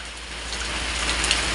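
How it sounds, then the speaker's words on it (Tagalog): Heavy rain pours down steadily in a rural farm setting, a dense, even hiss of drops on surfaces, loud and close throughout. "Biglang magbuhos ang malakas na ulan."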